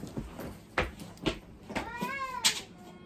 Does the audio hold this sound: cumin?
no